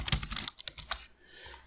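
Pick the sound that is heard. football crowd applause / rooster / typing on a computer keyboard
typing on a computer keyboard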